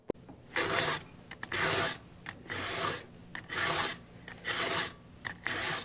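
A round file rasps across chainsaw chain teeth in a regular rhythm of about six close, scratchy strokes, each lasting roughly half a second, separated by short pauses, with no talk.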